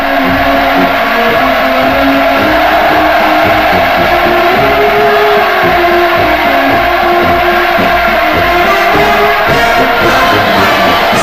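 A large crowd cheering in welcome during Putin's 2000 visit to North Korea, a loud sustained roar of massed voices that holds steady throughout, with no individual speech standing out.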